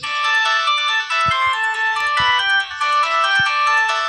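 A basic mobile phone plays a bright electronic melody ringtone, loud and close, with rapid repeating tonal notes and a couple of brief dips, alone without speech.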